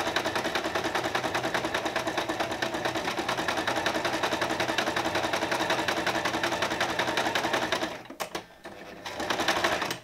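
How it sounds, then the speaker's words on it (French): Domestic sewing machine stitching around a dress slit while the handwheel is turned by hand, a steady fast mechanical chatter running close and loud for about eight seconds, then a brief pause with a few clicks before stitching resumes. "je tourne la manivelle avec ma main parce que si on part à la machine, ça va être moche"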